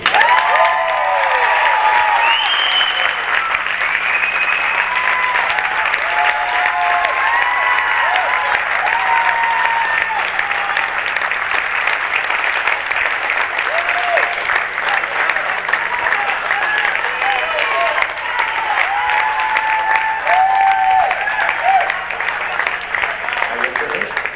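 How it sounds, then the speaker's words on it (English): Basketball fans at a Vermont Catholic grammar school boys 5th and 6th grade game applaud and cheer steadily for the whole stretch, a dense wash of clapping with scattered whoops and shouts, loud and continuous throughout. "Now another group of fans have an opportunity to cheer as well."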